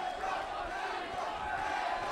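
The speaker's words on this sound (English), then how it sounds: "Listen to the crowd" A professional wrestling arena crowd cheers steadily after Kurt Angle kicks out of a pin, a dense continuous roar with no break.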